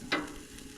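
A steak sizzles steadily in a pan, with one brief scrape or clink near the start and a soft, even frying hiss after it.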